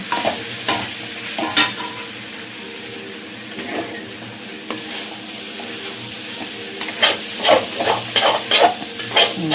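Chicken fried rice being stir-fried in a pan at home, Indian style: steady oily sizzle with repeated sharp scraping strokes of a spatula against the pan, clustering into quick bursts near the end, close and with no talking.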